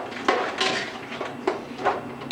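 Langouste with bay leaf is stirred in a pot, producing a few irregular knocks and scrapes of a utensil against the cookware, close and moderately quiet.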